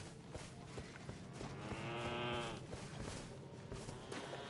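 Goats in Elden Ring: Shadow of the Erdtree let out a wavering, drawn-out bleat that rises above a busy game soundscape, with fainter bleats around it.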